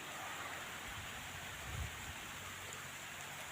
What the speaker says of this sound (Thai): ฝนเทลงมาใช่แล้วครับ